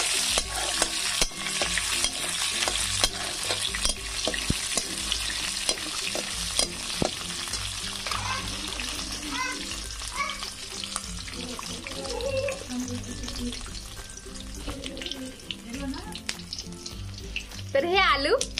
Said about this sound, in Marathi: तर हे शेंगदाणे थोडेसे तेलामध्ये होऊ द्यायचे।